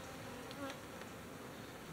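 Bees hum steadily around a feeder jar outdoors, a close, continuous buzzing drone with small bursts as individual insects move past.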